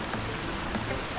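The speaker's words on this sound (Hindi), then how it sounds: "बढ़िया, बारिश आ रहा है" Rain falls in the Rayta Hills near Paradise Lake outside Udaipur, a constant soft hiss of drops close by, even in level throughout, with a faint murmur of voices beneath.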